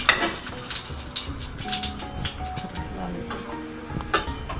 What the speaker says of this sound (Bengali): প্রথমে আমরা তেল গরম করে নিয়েছি, এর মধ্যে আমরা মরিচ ছাড়ব।